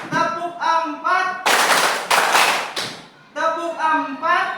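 In a classroom, a group of children claps together in a string of loud, dense bursts during a counting clap game, framed by group voices chanting numbers before and after.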